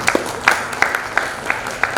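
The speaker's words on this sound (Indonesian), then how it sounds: "Tepuk tangan buat Indonesia" A small gathering at a farewell event for a class group claps for Indonesia, sparse and uneven, with a handful of distinct claps standing out over a thin patter of hands.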